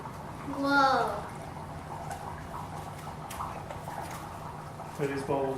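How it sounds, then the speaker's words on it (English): Dry ice in hot water bubbles and fizzes in a continuous, moderately loud hiss, while voices break in briefly near the start and again at the end. "It's dry ice and hot water, guys."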